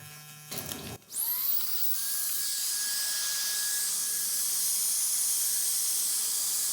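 A barbershop blow dryer switches on after a brief clatter and rises to a steady, loud whooshing hiss with a high whine, running continuously.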